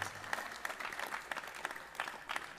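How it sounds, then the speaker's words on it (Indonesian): A crowd at a Maulid Nabi religious gathering claps for the questioners, a faint, distant patter of hands with several louder bursts spread through the stretch. "Tepuk tangan untuk ke-6 penanya kita"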